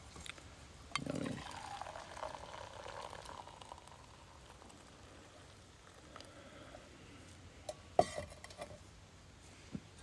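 Water bubbling to a boil on a camp stove outdoors for Earl Grey tea, a soft steady simmer with a brief louder gurgle near the start and a few clinks later.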